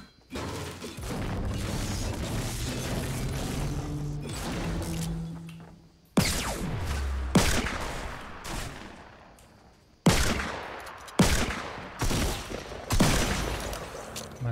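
Bursts of gunfire in a Fortnite match, dense sustained firing with game music underneath, then sharper separated volleys after a brief silence, loud and close.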